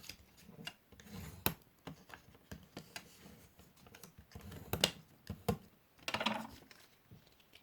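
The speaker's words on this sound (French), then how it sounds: "Je marque mes plis." Paper scoring for a scrapbooking box base, with a tool pressing fold lines into an A4 sheet: soft scraping strokes and sharp taps repeat irregularly, close and fairly quiet.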